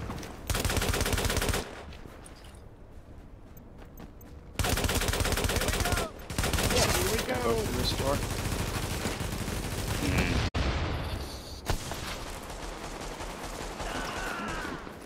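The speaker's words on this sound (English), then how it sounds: "I love this M60" An M60 machine gun fires in The Division, sustained loud automatic bursts in several long stretches separated by brief pauses, with other gunfire and game noise in between and no talk.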